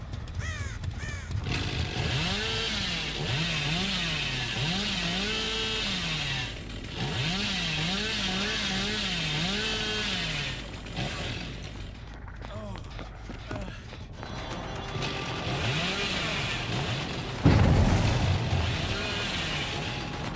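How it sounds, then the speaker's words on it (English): Hillbilly's chainsaw in Dead by Daylight, revving and droning with a rising, wavering pitch through most of the stretch, interrupted by brief pauses, with crow caws, running footsteps and game effects mixed in. "used the chainsaw for a bit of mobility here"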